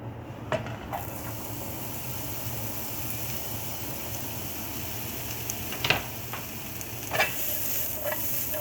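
Vegetables fry in oil in a pan for a stir fry, giving a continuous close sizzle with occasional scrapes and clicks of stirring and no speech.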